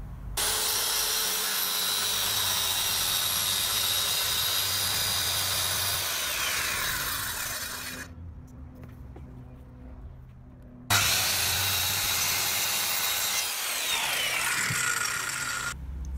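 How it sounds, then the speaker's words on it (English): A circular saw cuts through an insulation board inside a Mercedes Sprinter van, its loud steady whine running for several seconds, dropping out briefly, then starting again for a second cut. "at least this board will be well supported while I'm running the circular saw over it"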